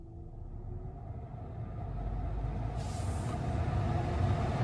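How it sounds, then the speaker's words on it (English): Tesla cabin climate fan blowing at setting 9, a broad steady rushing airflow that swells gradually louder, heard close inside the car with a low rumble beneath it. "now the fan is blasting"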